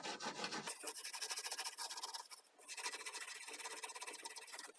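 Dust being scrubbed off a Roland TR-55 drum machine, a steady close scratchy rubbing that runs continuously with a brief dip midway, no voices.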